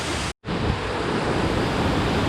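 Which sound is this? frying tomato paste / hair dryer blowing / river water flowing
river water flowing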